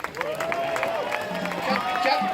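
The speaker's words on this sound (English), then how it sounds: "Just big round of applause for Auntie Shirley and Uncle Dave." Crowd applause for Auntie Shirley and Uncle Dave at a Palm Sunday refugee action rally, a steady moderate clapping with a voice speaking over it.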